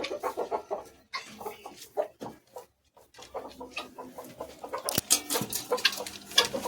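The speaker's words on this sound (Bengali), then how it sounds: "এখানে মুরগি ডিম পাড়ছে অথবা আবার ডিম পাড়তে বসেছে" On a poultry farm, a hen laying eggs clucks repeatedly in a fast, uneven stream of short calls, close by, with rustling and a few sharper squawks toward the end.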